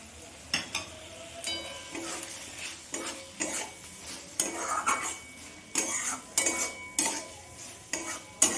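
Fried mushrooms get stirred into cooked-down spice masala in a pan, a series of repeated scraping and clinking strokes of a spatula against metal over a soft sizzle, close up with no voices.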